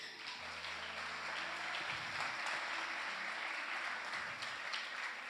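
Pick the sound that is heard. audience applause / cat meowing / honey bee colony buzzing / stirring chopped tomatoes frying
audience applause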